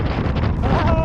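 Strong wind gusts buffet the microphone on the exposed summit of Ben Mcdonald, a loud, turbulent rumble filling the whole moment.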